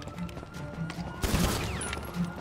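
A burst of gunfire in the video game GTA V during a police chase, rapid overlapping shots rising halfway through over an ongoing background rumble, with faint talk.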